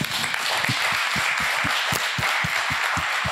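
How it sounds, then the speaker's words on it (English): An audience at a live conversation event gives a round of applause, a steady wash of clapping with a few sharper individual claps and faint voices underneath. "Can we give my man a round of applause?"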